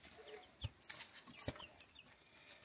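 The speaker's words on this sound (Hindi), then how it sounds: "मुर्गी भी रखी है हमने" Chickens in a village in Uttarakhand give a few soft, scattered clucks against quiet background noise, with a couple of sharp knocks mixed in.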